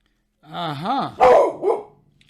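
A pet dog gives a rising whine followed by two short, close barks, with quiet between them.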